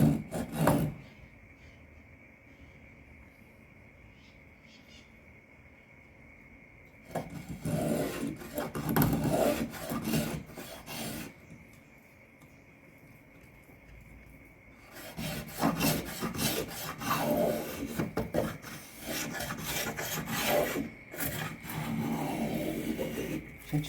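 A spokeshave blade shaves wood in long rasping strokes that come in bursts separated by quieter pauses, heard close and fairly loud.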